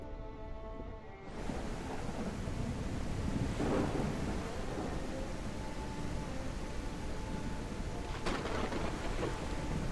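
Rain pours steadily in a video game storm in Cauldron Chronicles, heard near the water's surface, with two rolling thunder rumbles breaking through the hiss, one at the start and one near the end, and no music.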